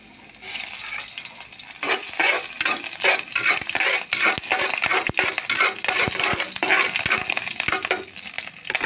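Garlic fries in a hot pan with a bright, steady sizzle, punctuated by rhythmic scraping and clinking of a utensil stirring it, close and fairly loud throughout.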